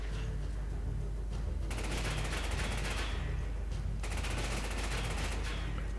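Rapid automatic gunfire in Resident Evil 5, loud and close, with two sustained bursts of dense, rattling shots over a constant low game hum, no talking.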